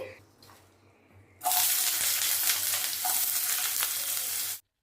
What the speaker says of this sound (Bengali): প্রথমেই কিউব করে রাখা পেঁয়াজগুলোকে দিচ্ছি।